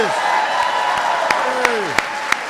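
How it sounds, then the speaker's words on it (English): Ceremony guests applaud honorees at the National Medals of Science and Technology and Innovation awards, a continuous wash of clapping with a few sharper, louder claps standing out. "Let's give another big round of applause to our honorees."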